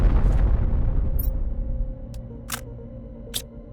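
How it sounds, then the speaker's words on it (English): An explosion in the video game Planet Crafter: a loud low boom fades over about two seconds into a rumbling tail, then two sharp, brief crackling pops follow, with no voices. "See if that explosion takes this out as well."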